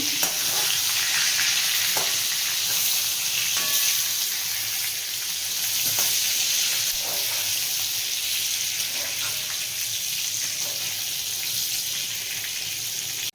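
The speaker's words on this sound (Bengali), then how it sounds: "বেগুনগুলো উল্টে পাল্টে ভেজে নেবো" Eggplant slices frying in oil for a neem-leaf eggplant dish, being turned over in the pan: a steady close sizzle with occasional soft clicks and scrapes as pieces are flipped, no talk.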